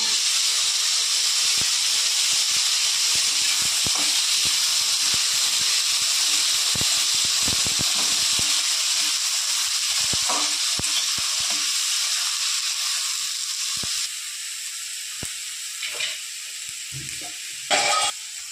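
Garlic, green chilli and black cumin fry in a pan with a steady, loud hiss and sizzle, close up, as light stirring clicks come and go. Near the end the sizzle dips briefly, then flares up again.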